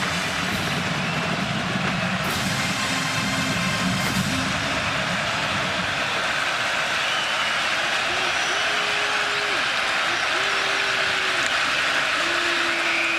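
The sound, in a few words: Spartan stadium crowd noise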